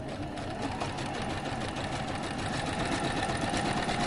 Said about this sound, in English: Here's a sewing machine.